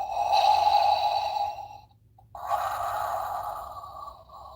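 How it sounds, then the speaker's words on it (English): A Star Wars Black Series Darth Vader toy plays its electronic breathing sound: a mechanical inhale, a brief pause, then an exhale, close and fairly loud with no talk. "So this Vader actually lights up and does the breathing."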